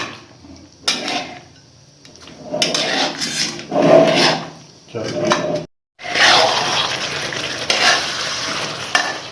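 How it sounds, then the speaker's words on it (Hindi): Black pepper chicken karahi being stirred in a pan over a low flame, with scraping, sizzling bursts broken by short pauses and a brief silence, and a voice speaking at moments. "ये इसे अच्छी तरह मिक्स करेंगे।"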